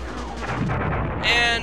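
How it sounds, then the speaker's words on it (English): Missile blast from the Star Fox video game, a loud burst of broadband noise rising near the end over steady game music and sound effects, with a voice talking throughout. "And a missile blew me up."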